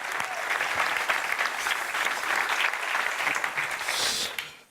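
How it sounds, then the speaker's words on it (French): An audience applauds a multiple world triathlon champion at an event, a steady dense wash of clapping that holds for several seconds, then tapers off at the end. "Monsieur, et vous pouvez l'applaudir, est multiple champion du monde de triathlon du sport."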